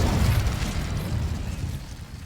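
Incendio fire spell from Hogwarts Legacy: a single loud, fiery whooshing burst with deep rumble that fades out over a couple of seconds.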